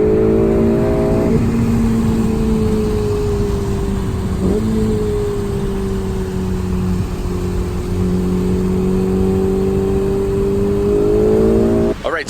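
A Ferrari sports car is driven from inside the cabin, its engine a loud steady drone that rises as it accelerates and shifts through gears, with no voices.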